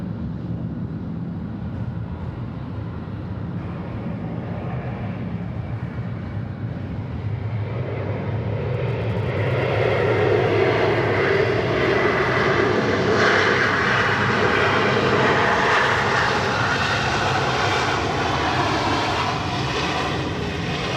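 A Southwest Airlines jet airliner passes at Atlanta Hartsfield-Jackson International Airport, its engine roar building from a low rumble to a loud broadband rush with a rising whine, heard from outside.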